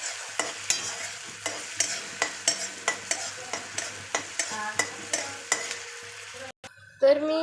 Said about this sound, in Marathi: याला आपल्याला छान सॉटे करून घ्यायचं आहे. याच्यात आलं लसूण पेस्ट घालायची आहे.